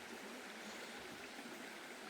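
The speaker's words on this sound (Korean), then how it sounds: "물소리 들리시죠?" A mountain stream in the woods, running full after heavy rain, rushes with a steady, even hiss and gurgle, close and continuous with no voices over it.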